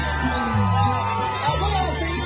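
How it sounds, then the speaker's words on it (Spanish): A live concert crowd shouting and whooping together, many loud overlapping voices held in a sustained cry that swells briefly in the middle. "Que se escuche el pinche grito"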